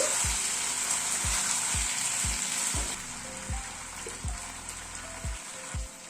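Eggs frying and being tossed in a pan on the stove, a steady loud sizzle with regular knocks of a spatula against the pan roughly once a second, close by with no talking.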